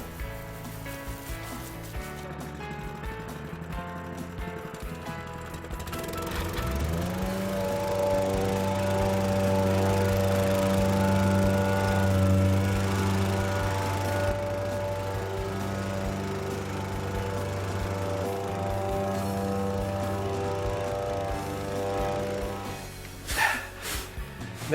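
A gas-powered plate compactor runs over damp road base for a courtyard paving job, a loud steady engine drone with a rough vibrating hum that settles in after a few seconds and holds near and constant throughout, with no talk.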